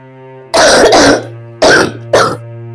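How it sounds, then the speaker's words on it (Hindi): An elderly woman coughs close by in three harsh bursts, one long and two short, over a low steady hum in a home setting. "फिर से खांसी शुरू हो गई का?"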